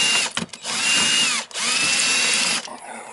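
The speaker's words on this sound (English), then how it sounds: "Let's see if we can get these screws out of here." A power drill backs rusty screws out of an outdoor shower at a summer cottage, running in three loud whirring bursts with rising and falling pitch, short pauses between them, close by.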